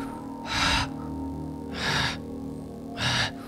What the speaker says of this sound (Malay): saya terdengar satu bunyi macam nafas orang di telinga saya